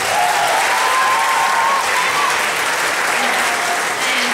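Sustained audience applause at a school pops concert, a dense, steady wash of clapping from a large crowd filling the whole stretch at full loudness, with faint background voices.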